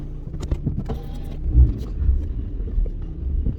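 A Rover 75 with a manual gearbox runs at close range, starting up for a test drive; its low engine rumble holds steady under some wind buffeting, with no voices.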